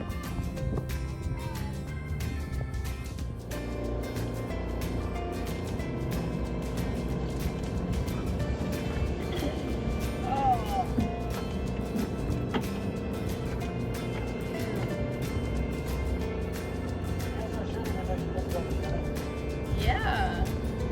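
Honda portable generator running steadily as it powers a boat's watermaker, a continuous mechanical drone with a broad low hum throughout, a few brief noises and faint tonal sounds over it.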